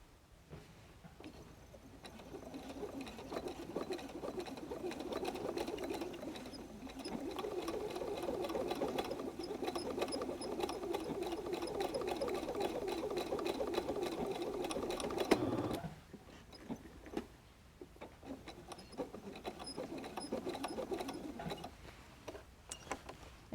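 Sewing machine stitching handles onto a fabric-covered clothesline rope basket, a steady close mechanical whir that runs continuously, stops abruptly partway through, then starts again after a short pause.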